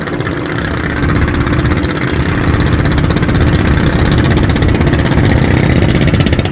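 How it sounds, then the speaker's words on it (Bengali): A loud, steady engine drone with a rapid low chugging throb, running continuously and close by, from a river trawler boat engine. "ট্রলারগুলো আওয়াজে মনে হয় ডাবল ইঞ্জিনের আওয়াজ হইতেছে"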